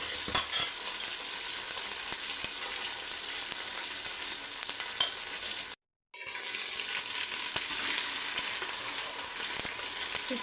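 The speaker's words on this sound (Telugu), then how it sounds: "తర్వాత నానబెట్టుకున్న చికెన్ని ఇందులో వేసి బాగా ఆయిల్లో మగ్గనిచ్చుకోవాలి." Marinated chicken pieces frying in hot oil for biryani, a loud, dense sizzle with crackles that runs continuously, cuts out briefly for a moment, then resumes just as strongly.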